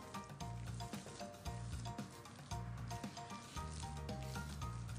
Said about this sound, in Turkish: Patatesle de birlikte 5-6 dakika daha kavuracağım ve ocağın altını kapatacağım